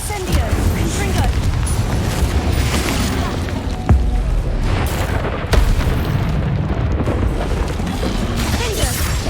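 Explosive Confringo blast spells from the Hogwarts Legacy video game on PC, a dense barrage of loud booms and bursts running continuously with sharper impacts standing out, mixed with game effects and spoken spell incantations.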